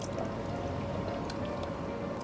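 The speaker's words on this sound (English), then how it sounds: "I'm adding another 2 liters now." Japanese walnut sap is poured into a pot of sap already boiling on the heat, giving a soft continuous liquid trickle and bubbling hiss at low volume, with a few faint clinks.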